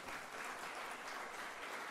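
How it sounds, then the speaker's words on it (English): Audience applause fills a lecture hall at a talk on renewable energy and nuclear power, a steady dense wash of many hands clapping at moderate loudness throughout. "And this you would want to clap about."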